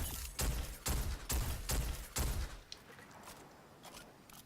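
An old-fashioned-sounding gun fires in a video game, five heavy, evenly spaced shots about half a second apart, then quieter, fainter reports trailing off.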